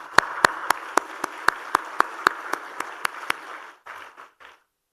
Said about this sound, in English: So a huge round of applause for all of you here.